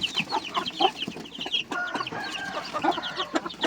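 Young chicks in a crowded brooder peck at feed, a dense chorus of high peeping chirps with bursts of clucking, continuous and close with no talking.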